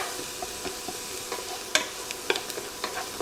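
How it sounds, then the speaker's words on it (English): Celery and onion fry in butter with a soft, continuous sizzle, broken by a few light clicks from stirring, close but fairly quiet and with no voices. "Now the celery and onion absorb the butter."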